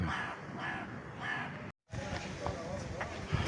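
A crow caws several times, fairly close, at a beach resort, with faint background voices and a brief dropout partway through.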